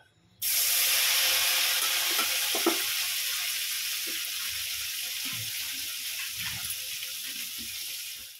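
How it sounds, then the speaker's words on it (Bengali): Salted, turmeric-coated store-bought paneer pieces drop into hot oil in a pan, and a loud, close sizzle starts abruptly and holds steady, fading slightly, with faint clinks of utensils underneath and no talking. "এই দেখো পনিরগুলোকে এবার আস্তে আস্তে একটু ভেজে নেব"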